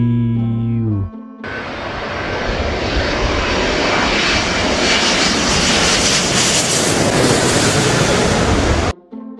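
A toy Garuda Indonesia airplane gives off a loud, steady roaring jet-engine noise that runs almost without a break for several seconds, preceded by a short tonal chime.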